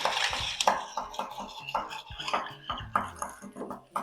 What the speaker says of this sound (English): push your spoon down to the bottom, and we're gonna be stirring in a movement of